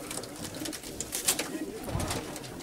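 Pigeons from a racing loft coo softly at close range, several low throaty calls overlapping against light background rustle.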